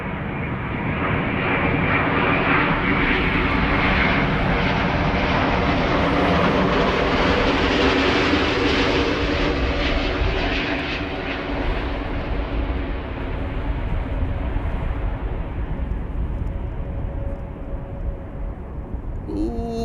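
A four-year-old narrow-body jet airliner lands at Amsterdam Schiphol Airport, its steady loud engine roar swelling to a peak mid-pass and then easing off as it rolls away.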